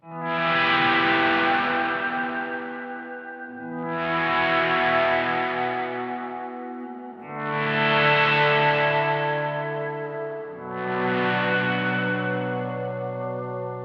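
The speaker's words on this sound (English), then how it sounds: "a bit of a volume swell-like sound, just for some of those ambient-like tones" Electric guitar through a POG 2 set for swells: four slow, sustained chords fade in softly and bloom into ambient, pad-like tones, each swell holding with a shimmering octave-rich wash before the next one rises.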